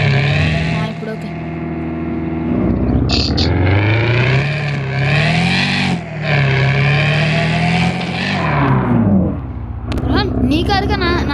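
A car engine in the driving game Drive Zone Online revs and shifts pitch, rising and falling through several loud accelerations, with a brief dip midway and clicks near the end.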